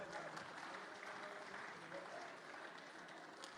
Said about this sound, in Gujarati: તાળી વગાડી તો જોશથી વગાડજો.